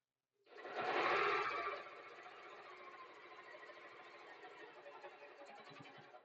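A sewing machine runs a quarter-inch seam on a bag panel, starting with a louder whirring burst and then settling into a steady, rapid mechanical chatter that continues close up without speech.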